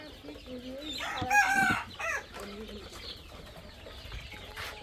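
Domestic native chickens on a small farm, with a rooster crowing and hens clucking close by in several bursts, one loud crow standing out in the middle.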